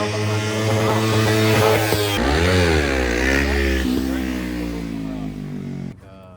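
A motorcycle pulling wheelies on a Friday night roars loud and close, its engine revving high, dipping and climbing again before cutting off abruptly near the end.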